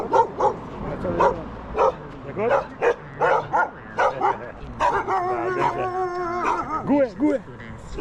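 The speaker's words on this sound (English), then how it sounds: "Security dogs." Security dogs at a roadside premises in Jamaica bark and yip in repeated bursts close by, some whining tones mixed in, while people talk over them.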